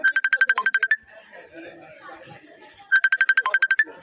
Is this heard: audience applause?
no